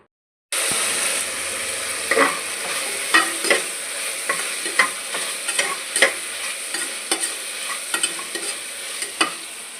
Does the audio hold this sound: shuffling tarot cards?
no